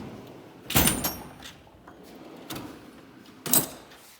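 A Snap-on toolbox wrench drawer sliding on its runners, with three separate metallic rolling clatters spaced about a second apart, close and loud with quiet gaps between.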